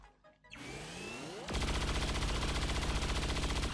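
Gunfire from a weapon in XCOM 2 Long War of the Chosen, a whooshing shot followed by a loud, dense, rapid rattle of automatic fire sustained to the end.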